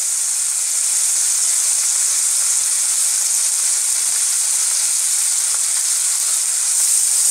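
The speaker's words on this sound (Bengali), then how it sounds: "এবার আমি এটাকে আর দু তিন মিনিট একটু কষিয়ে নেব জিনিসটাকে।" Chicken chow mein sizzles steadily in a hot pan, a constant bright frying hiss close by with faint stirring underneath, no voices.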